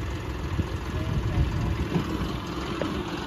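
A John Deere 5310 tractor engine idles at low RPM, a steady low rumble that runs continuously through the short stretch at moderate volume without rising or falling.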